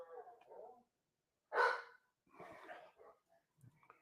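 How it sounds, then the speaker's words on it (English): A dog gives a single short, fairly loud bark amid quiet breathing-like noises and brief faint sounds, with silent gaps between them. "more barking?"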